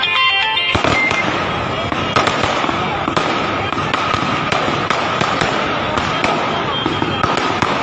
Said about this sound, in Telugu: బీఆర్ఎస్ కార్యకర్తలు తెలంగాణ భవన్ టపాసులు పేల్చడంతో తెలంగాణ భవన్ కు నిప్పంటుకుంది